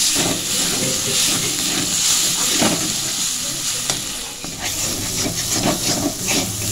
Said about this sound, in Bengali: হলুদের গুঁড়ো দিয়ে দিয়েছি, দিয়ে ভালো করে মশলাটা কষিয়ে নিচ্ছি